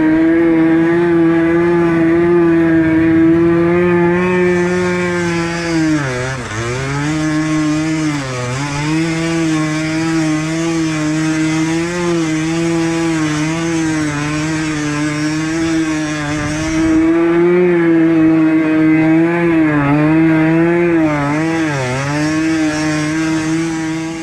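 A Honda CRM 50 small two-stroke motorbike revved hard while racing, its high buzzing engine note screaming continuously and loud, pitch dipping briefly on gear changes or throttle lifts before climbing again, with no talk.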